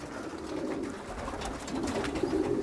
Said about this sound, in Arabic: وانا نبداو الخوت في تشريب الحمام